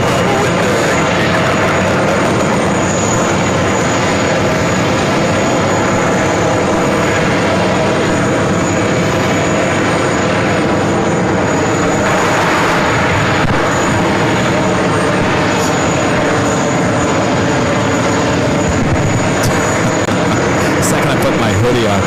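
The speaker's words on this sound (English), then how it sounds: "Virgin A330, now short funnel for runway 31 right." A Virgin A330 airliner on short final to runway 31 right at JFK, its broad jet engine roar filling the air steadily and fairly close, with people talking nearby.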